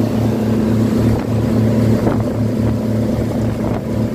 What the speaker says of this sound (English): so I know the boat's loud right now